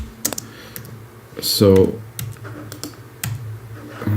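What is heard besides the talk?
typing on a computer keyboard for musical typing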